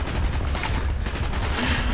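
Dense, continuous gunfire in Call of Duty Black Ops, a loud unbroken barrage of overlapping shots filling the whole moment with no pause.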